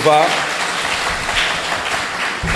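Applause from attendees at a general assembly of municipal treasury agents, a brief burst of crowd clapping right after a voice, steady and fairly loud.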